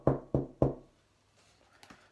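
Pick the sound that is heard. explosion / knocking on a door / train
knocking on a door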